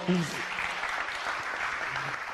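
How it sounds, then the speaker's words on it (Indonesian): Audience applause at an Indonesian spiritual talk, a steady wash of clapping from a crowd filling the whole stretch at even loudness, with a brief voice at the start. "Tepuk tangan dulu."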